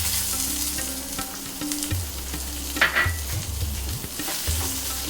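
One small chopped onion gently frying in a pan for a Spam balti, a soft continuous sizzle with occasional stirring scrapes up close, nothing else over it.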